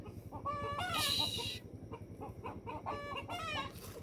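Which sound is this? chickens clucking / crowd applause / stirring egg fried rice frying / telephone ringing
chickens clucking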